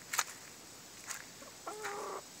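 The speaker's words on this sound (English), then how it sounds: "These are not my chickens." A few short, scattered clucks from chickens nearby, with brief pauses between calls and a slightly longer, wavering cluck at the end.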